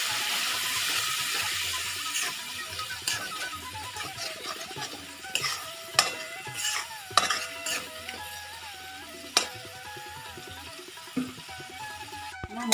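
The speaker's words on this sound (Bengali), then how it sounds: "একটু আমি জল অ্যাড করবো এতে, সামান্য একটু জল দেবো।" Masala frying in oil for a jackfruit and potato curry gets a small splash of water, followed by intermittent spoon scrapes and clinks against the pan under a steady low sizzle.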